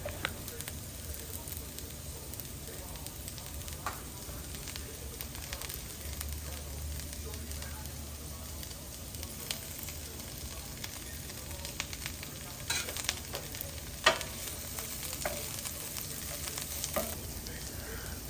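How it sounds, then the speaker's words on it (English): Asparagus, fennel, peppers, tomatoes and mushrooms fry in a pan with a steady soft sizzle, punctuated by occasional utensil scrapes and taps as they are stirred, close but fairly quiet. "I give them a good stir and let them cook for another couple minutes."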